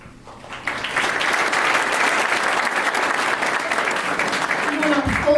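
Audience applause at a 2015 scholar athlete ceremony, starting after a brief pause and building to steady, dense clapping from a large crowd that continues to the end, with some faint voices underneath.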